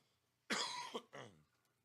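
A man coughs two or three times in a short, harsh burst, close and fairly loud, then quiet.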